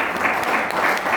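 Brief burst of audience applause in a church, loud, dense hand clapping from a close congregation.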